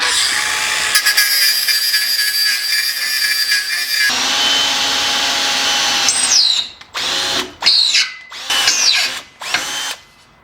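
A power drill boring a guide hole while building a coffee table frame from old engine parts: steady loud whine for about six seconds, then several short bursts of drilling with pauses between, close and without talk.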